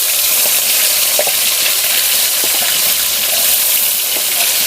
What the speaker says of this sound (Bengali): এবার আমি দিয়ে দিচ্ছি টমেটোর কুচি